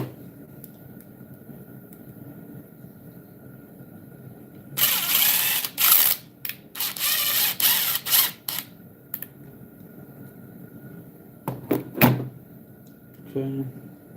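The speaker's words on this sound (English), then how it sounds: "self-tapping screw is going to go in this hole right here" Several bursts of a power driver sink a self-tapping screw into a hole, short whirring runs separated by pauses over a quiet background, with a later pair of bursts and a few clicks.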